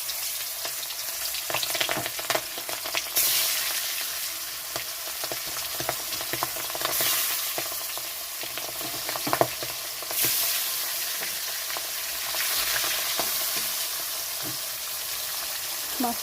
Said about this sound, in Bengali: তেলটা গরম হয়ে গেছে তো মাছটা ভাজার জন্য ছেড়ে দিচ্ছি মাছটা